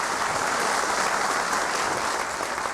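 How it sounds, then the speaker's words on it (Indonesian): An audience claps at a Jakarta political talk event, a dense, steady burst of applause from many hands filling the room, with no speech over it. "Kalau mau tepuk tangan jangan malu-malu,"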